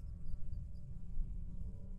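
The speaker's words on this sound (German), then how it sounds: "Ich höre eine Fliege." A fly buzzes with a faint, steady drone and slight wavering in a horror escape video game, quiet and continuous over a low background hum.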